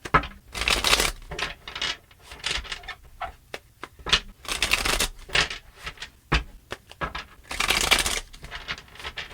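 Tarot cards being shuffled in repeated quick riffling bursts, crisp close papery flutters separated by brief pauses, with no talking.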